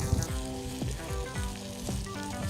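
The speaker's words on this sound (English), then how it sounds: "Let frying up. Ooh, sizzling." Chicken wings fry in olive oil in a pan, giving a steady, close crackling sizzle that runs unbroken with soft bursts of popping.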